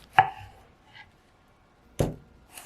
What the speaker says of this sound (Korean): 토마토는 각각 4조각으로 잘라 준비하고